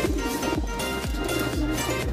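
Pigeons coo repeatedly in a steady, rhythmic series of low, throaty calls, close by and fairly loud, with no talking.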